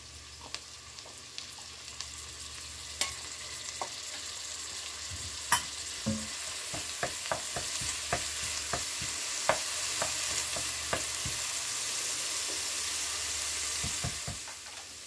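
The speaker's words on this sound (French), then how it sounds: "on va ajouter maintenant 1 pouce de gingembre râpé" Grated ginger is tipped into a hot frying pan for a red bean curry (rajma) and stirred through. A steady sizzle runs throughout, with sharp spoon-on-pan taps and scrapes coming in a loose rhythm, close and fairly loud, and no talking.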